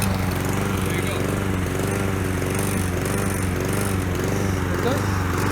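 A Zoran lawnmower engine runs close by with a steady buzzing drone whose speed rises and falls in gentle surges, continuing without a break.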